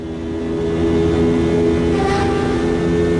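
Race car engine in Automobilista 2 from the chase camera, a loud steady drone with strong harmonics rising in pitch as it accelerates through a tunnel, alone without talk.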